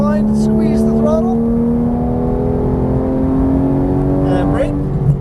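A Porsche GT3 engine pulls hard on a race track at Las Vegas Motor Speedway, and its loud, sustained tone climbs steadily in pitch. A voice talks over the engine throughout.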